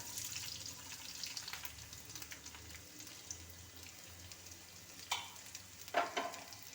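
Sliced onions frying in vegetable oil in a pan, a soft continuous sizzle with light stirring and a couple of sharp utensil clinks near the end, close and fairly quiet.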